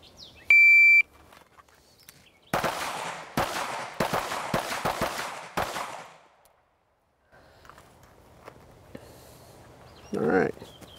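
Pistol shots at a 10-yard target drill ring out as a quick string of about six to seven sharp, loud reports over roughly three seconds, preceded by a shot-timer beep and followed by quieter range noise.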